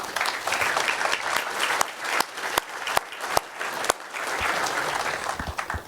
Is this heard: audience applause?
yes